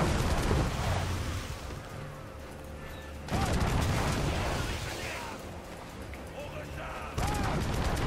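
Booming ship cannon blasts and rumbling explosions from Assassin's Creed IV: Black Flag, with bursts of heavy fire and a lingering low roar between volleys.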